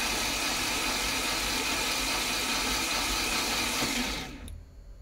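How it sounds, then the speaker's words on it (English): A car engine fitted with a new aftermarket ECU cranks over with a steady, dense mechanical drone that runs for several seconds and then cuts off abruptly near the end. "We've turned the engine over, so we know it's going round."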